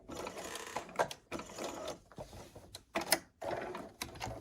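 Short bursts of a sewing machine stitching Snowball quilt pieces, the needle whirring in several quick runs separated by brief pauses, close and moderately quiet.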